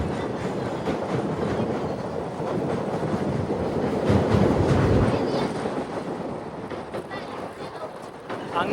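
A Madurai passenger train rumbles across Pamban Bridge with a steady rolling roar that swells midway and eases off, wind buffeting the microphone and faint voices in the background.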